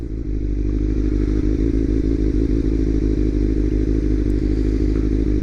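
Motorcycle running steadily in city traffic, a constant low engine drone with occasional clatter and bumps, close and loud throughout with no talking.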